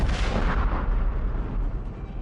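A huge underground Hezbollah tunnel in Lebanon is blown up in a blast, heard as a sustained, loud rumbling roar with deep low-end energy that rolls on and slowly fades over a couple of seconds.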